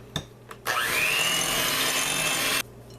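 Softened cream cheese is stirred in a bowl, a close, continuous scraping and smearing sound lasting about two seconds after a couple of light knocks, then stopping abruptly.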